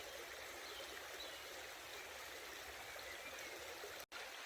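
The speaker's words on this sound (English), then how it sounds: "The sounds of the river and the birds," Steady rushing of a river beside a forest campsite, a continuous close wash of flowing water with no voices, holding level until a brief dropout near the end.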